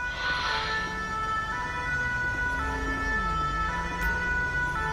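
Fire brigade siren in the video game GTA with the LSPDFR police mod, a steady wailing tone sounding near and loud over a rumbling vehicle engine as the fire engine arrives, with no talk over it.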